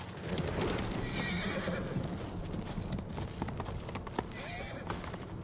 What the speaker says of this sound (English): A horse! I need my horse.